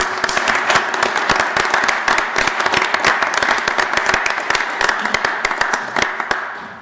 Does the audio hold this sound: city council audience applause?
yes